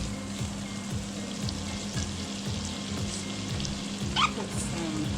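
Onions cook in a pan for salmon, shrimp and grits, giving a steady sizzle and crackle under a low, rhythmic hum.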